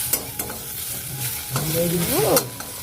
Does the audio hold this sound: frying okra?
yes